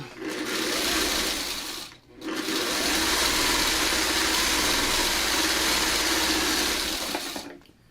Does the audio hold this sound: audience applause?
no